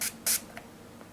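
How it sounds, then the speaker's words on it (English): Makeup setting spray mists onto a brush in two short, close pumps of bright hiss, a brief one and then a slightly longer one, followed by faint softer puffs in a quiet room. "spray a little bit on my brush"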